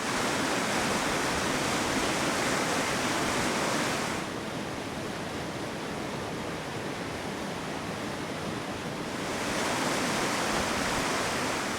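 Broadband rushing torrent of a river fed by Grey glacier, steady and loud throughout, dipping slightly in level midway before swelling back, with no voices.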